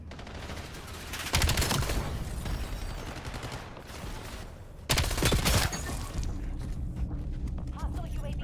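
Gunfire from the video game Call of Duty: Black Ops 7 in multiplayer, dense and continuous, with two louder bursts of close shooting over steady background battle noise.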